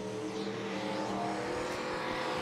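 Race cars in a heat race at Monett Motor Speedway, with the number 72 car out front, roar together in a loud, continuous engine drone that stays close and steady throughout.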